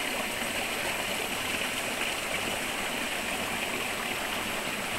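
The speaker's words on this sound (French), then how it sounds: "Il y a un petit ruisseau qui coule." A small stream trickles and flows steadily beside a trapping cabin in the woods, a continuous, fairly close broadband wash of water with no voices.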